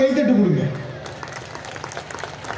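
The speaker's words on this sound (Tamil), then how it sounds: "இங்கே விருந்து கொடுக்குற அன்பருக்கு இன்னொரு பாராட்டு, கைத்தட்டு கொடுங்க" Audience at a Tamil arts festival bursts into applause, a crackling patter of many hands that follows a voice and continues, fairly close, as the voice trails away.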